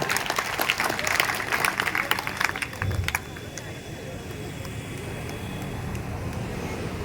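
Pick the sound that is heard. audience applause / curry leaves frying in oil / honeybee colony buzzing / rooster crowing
audience applause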